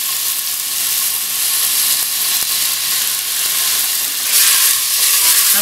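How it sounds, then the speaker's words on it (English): Onions browning in hot oil inside a pressure cooker, a dense, continuous sizzle heard close and loud with no talking, swelling slightly near the end. "I'm going to brown the onions lightly"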